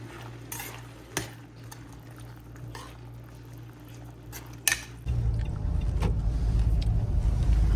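A car with a Ganpati idol inside pulls away from home down the road in front of the house; quiet clicks and knocks give way to a steady, loud low engine and road rumble.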